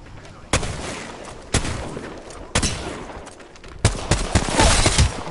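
Gunfire from a PS4 shooter game: four sharp, loud shots spaced about a second apart, then a denser burst of rapid fire, with faint background game noise throughout.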